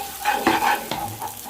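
Rice stirred and fried in a hot pan over a high flame for a fried rice dish, a scraping stir and soft sizzle rising in a few close strokes, no voices.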